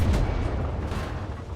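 A tank cannon shot from a Tiger II in War Thunder: one loud, close, heavy boom with a broad rumbling blast that decays over about a second and a half, with no talk.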